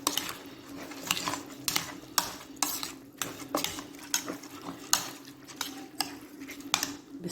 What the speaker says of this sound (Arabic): هحط هنا العدس اللي انا كنت سلقاه اساسا.